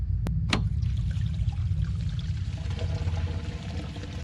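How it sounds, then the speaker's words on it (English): Water drains from an RV gray tank in a continuous rushing, gurgling pour that stays steady and close, then tapers slightly toward the end, with no voices. "Now we're going to empty the gray tank."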